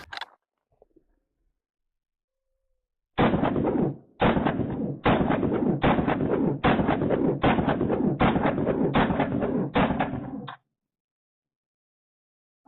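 A Stealth Arms Platypus firearm fired in a rapid string of about eight loud, sharp shots spaced roughly a second apart, close to the microphone, after a short quiet pause, then silence.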